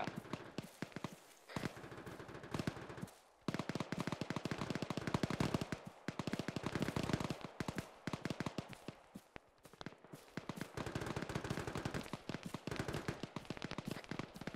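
Rapid gunfire in the military shooter game Arma 3, loud bursts of crackling shots repeating almost continuously with short gaps and a few brief pauses between volleys.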